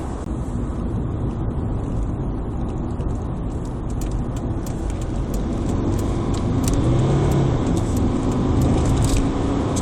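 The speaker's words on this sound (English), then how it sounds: "give you an indication of just what this car's like in terms of acceleration" A Mercedes C270 CDI diesel car accelerates on the road, heard from inside as a steady engine and road roar that grows slightly louder toward the end.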